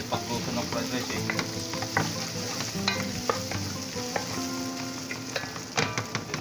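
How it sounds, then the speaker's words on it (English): Leftover BBQ and rice sizzling in a pan while being stir-fried into fried rice, with a continuous loud hiss and repeated scraping and clinks of the utensil against the pan. "Ako yung technique na pagluto ng fried rice."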